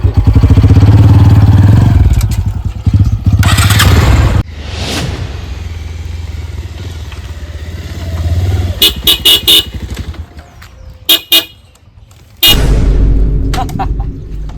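A motorcycle's engine rumbles loudly up close, dropping and rising, with several short bursts of horn honking in between.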